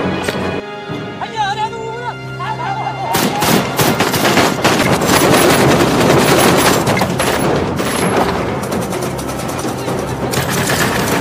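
Heavy gunfire from a war film, rapid bursts and loud blasts over a dense, chaotic battle soundscape, briefly preceded by tonal music.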